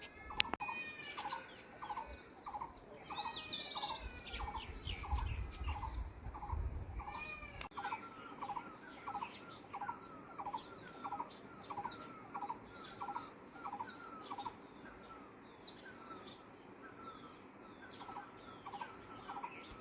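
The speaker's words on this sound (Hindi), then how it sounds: "अभी तो पता नहीं है कौन सा वाला चिड़िया है जिसकी आवाज़ आ रही है" Repeated bird calls ring out in a steady rhythmic series, with other chirps and a low rumble briefly underneath, moderately distant outdoors.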